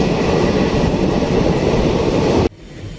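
A passenger train rumbles loudly along the platform at Merta Road station, a steady dense roar of wheels and carriages that cuts off abruptly near the end, leaving a faint hum.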